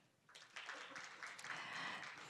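An audience at a broadcasting conference session applauds to welcome a speaker, the clapping swelling from a quiet start into a sustained, fairly distant wash of applause.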